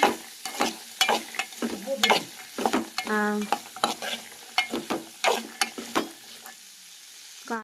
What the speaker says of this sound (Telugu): కారం వేసుకొని మొత్తం బాగా కలిగిపోతున్నాం